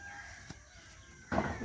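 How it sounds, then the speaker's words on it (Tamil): A rooster at a market crows once near the end, a short loud call rising over faint background noise after a quiet stretch. "இது என்ன கூவலை"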